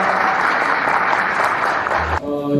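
An audience at a residents' briefing on apartment redevelopment applauds to welcome a member of parliament, with dense sustained clapping that cuts off abruptly near the end.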